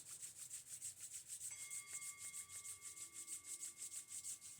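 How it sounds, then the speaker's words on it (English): Hands rubbing together briskly in a quiet room, a steady rhythmic swishing friction repeated about twice per second, close and soft, with no talk. "Activate your hands by rubbing them together."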